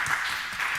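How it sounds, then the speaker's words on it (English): Brief moment of audience applause at a tech meetup after a talk, with steady dense clapping throughout the short stretch. "Let's give them a round of applause."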